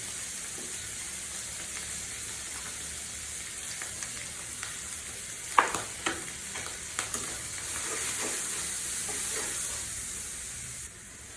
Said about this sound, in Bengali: দিয়ে ভালো করে কষিয়ে নিচ্ছি